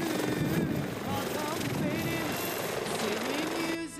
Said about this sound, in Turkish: Air'e ait helikopter Bursa İstanbul arasına 20 dakikada kat ediyor ve İstinye'ye iniyor.